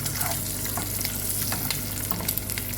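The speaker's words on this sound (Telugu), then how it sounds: "ఇలా ఫ్రై చేసుకోవడం వల్ల గుడ్డు బాగా రుచి వస్తుందండి గుడ్డు బిర్యానీకి" Eggs fry in a pan with turmeric, salt and chili powder for egg biryani, giving a steady close sizzle and crackle with occasional scrapes from stirring.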